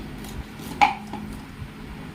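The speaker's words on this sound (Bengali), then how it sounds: "তো একটু আমি মোটা মোটাই কেটে দিচ্ছি" A knife cuts through hilsa fish into thick pieces, giving one sharp, fairly close chop against a quiet background with a few fainter knocks around it.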